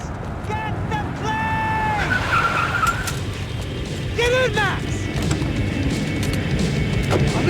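Tyres squeal in repeated skids as a car drives in Max Payne 3, with two sharp squeals and a steady engine-and-road roar beneath, mixed with game sounds and a voice talking over it.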